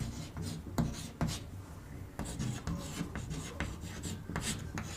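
Chalk or marker scratches and taps across a classroom board during a physics lesson on resistors in series, with short strokes and pauses, close and fairly quiet.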